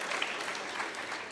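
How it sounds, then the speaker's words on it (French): Audience in a hall clapping together, a steady dense wash of applause throughout with no voices over it. "alors on applaudit, on peut applaudir"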